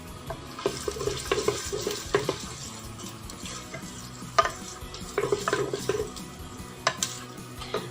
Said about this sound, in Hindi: इनको हमने गोल्डन ब्राउन होने तक भूनना है